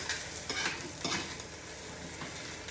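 Hash brown potatoes frying in a pan, a steady close sizzle broken by a few scraping stirs of a utensil against the pan.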